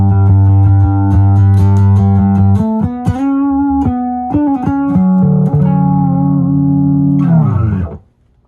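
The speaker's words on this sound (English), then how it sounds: "what that pedal actually does is it's going to double the distortion, so it kind of gives it almost like a reverb effect in a way" Electric bass run through an orange distortion pedal set to double the distortion, giving a thick, saturated, reverb-like growl. Sustained low notes give way to quicker picked runs, loud throughout, before cutting off abruptly near the end.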